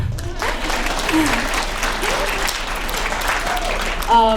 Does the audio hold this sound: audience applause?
yes